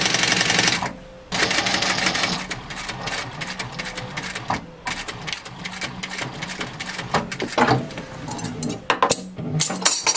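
A sewing machine runs in rapid stitching bursts through upholstery fabric for a dining chair seat, loud and close, with brief pauses between runs and no talking.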